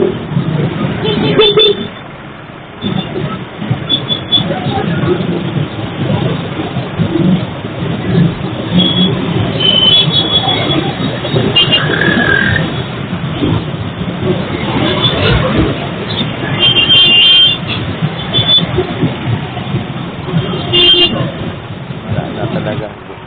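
Busy congested street traffic with engines and occasional car horn toots, a steady loud wash of vehicle noise throughout, with birds cooing faintly in the background.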